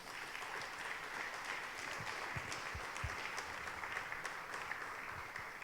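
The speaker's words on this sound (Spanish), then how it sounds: "Denle un fuerte aplauso a Dios una vez más." A church congregation applauds during a Spanish-language evening service, a quiet, distant patter of clapping with a few sharper low knocks near the middle, sustained throughout.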